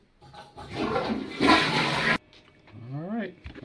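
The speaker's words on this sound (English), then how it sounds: "flush the potty" A toilet flushes loudly and close by with a steady rushing roar for about two seconds, then stops abruptly as a person talks over the quieter aftermath.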